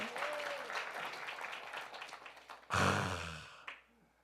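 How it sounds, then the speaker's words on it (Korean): A brief burst of applause from a church congregation during a Sunday morning service rises suddenly after quiet talk, lasts under a second, and fades quickly. "박수하세요."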